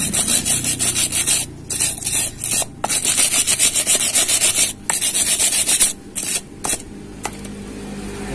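A brush scrubs an aluminium weld on a cracked engine deck oil cap mount, giving loud, rapid, harsh rasping strokes in bursts with brief pauses between them.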